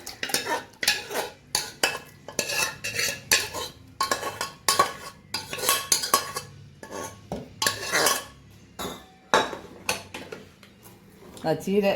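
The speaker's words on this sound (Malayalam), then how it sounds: "കറി നമുക്കിന്ന് വിളമ്പാനുള്ള പാത്രത്തിലേക്ക് ഒഴിച്ചു വയ്ക്കാം" Utensil and dish clatter from serving freshly made cheera thandu (amaranth stalk) curry, with scraping, tapping and clinking of a spoon against pots and a serving dish in irregular close bursts, plus some voice in the background.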